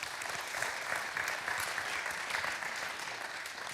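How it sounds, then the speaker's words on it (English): An audience applauds student ministry leaders at a church youth service, steady dense clapping filling the room at a constant level throughout, with no voices over it. "So clap about that."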